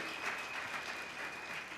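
A church congregation applauds, a steady wash of clapping from a crowd filling the room, moderately quiet and continuous, with no talking.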